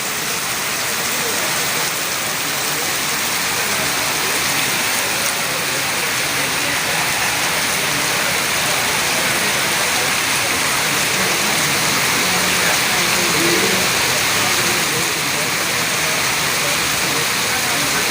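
Heavy rain pours steadily outside a main hall at night, a dense, continuous hiss and patter with faint background voices of people sitting outside.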